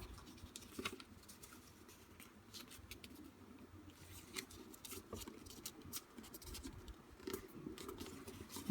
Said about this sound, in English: fold your paper